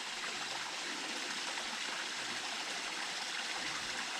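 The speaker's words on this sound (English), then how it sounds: "And the water comes down the rocks" Stream water pours down over rocks carrying sand, a constant close rushing wash that stays even and full throughout with no voices over it.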